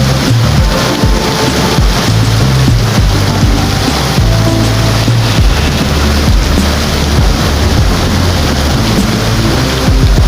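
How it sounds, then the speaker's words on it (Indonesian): The Curug Juneng waterfall at Karangsalam, Baturaden pours in a loud, steady roar, its falling water blown by wind and mixed with rumbling wind buffeting the microphone. "Air yang mengalir dari atas menuju ke bawah ini bergerak dari kanan ke kiri guys, karena diterpa angin."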